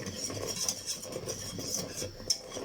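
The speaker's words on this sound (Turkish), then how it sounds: "karıştıra karıştıra ezdim pilavları" Cooked rice being stirred and mashed in a pot for baked rice pudding, a steady soft scraping and squelching with occasional sharp clinks of the spoon against the metal rim.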